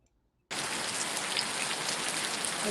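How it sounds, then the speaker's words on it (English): Heavy rain starts suddenly after a brief silence and pours down as a loud, dense, steady hiss that continues without a break. "It's raining really hard."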